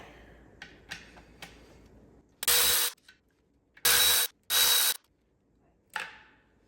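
A ratchet wrench loosens 10 mm bolts on a Porsche Boxster 986 engine, a few quiet clicks followed by three loud bursts of rapid ratcheting, then a final short rattle, close up and without speech.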